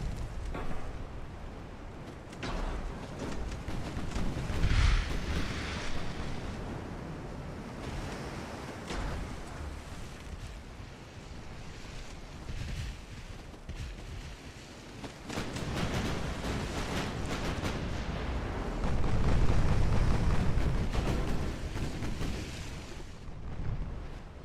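Naval shell fire and explosions in a battle in the game Ultimate Admiral: Dreadnoughts. A continuous, loud low roar with swelling rumbles and distant booms, with no voices.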